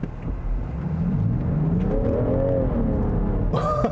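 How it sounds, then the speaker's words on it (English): A 2021 Land Rover Defender X 110 with traction control off is floored on slippery ground, its engine rising in a loud, close, climbing rev with whirring drivetrain that swells and holds, then breaks off near the end. "But Lear, I'll leave the traction control off right now and I'll just floor it."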